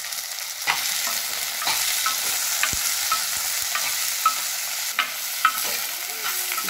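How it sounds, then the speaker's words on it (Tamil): Chopped vegetables stirred into a hot pan of sautéed onion, garlic and green chillies for a village-style dry fish curry, a constant loud sizzle with scraping strokes and occasional spoon knocks throughout. "இப்போ காயை நல்லா கிளறி"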